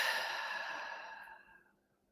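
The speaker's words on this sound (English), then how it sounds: "Just get into a steady rhythm of deep breathing." A single long, deep exhale during a guided breathing exercise, soft and breathy and close, fading out over about two seconds with no talk.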